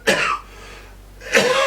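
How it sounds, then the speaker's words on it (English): Two harsh coughs, one at the start and another near the end, with a quiet gap between them; close and fairly loud, no talking. "Excuse me, I'm getting over a cough and a cold."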